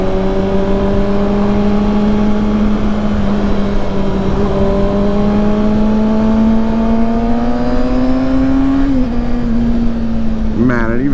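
A Kawasaki Ninja ZX-6R race-tuned sport bike engine whines loud and close while riding, pitch climbing steadily through the gear before dipping and rising again, wind noise underneath.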